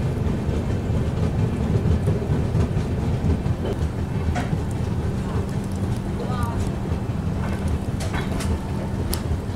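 The Vistadome passenger train runs near Bogibeel Bridge after leaving North Lakhimpur, giving a steady, loud rumble and rattle of wheels with faint clicks throughout and no clear speech.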